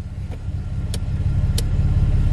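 A Chevrolet Camaro idles as it warms up, a steady low engine rumble that fills the clip with a slight rise in level, broken by two faint short clicks.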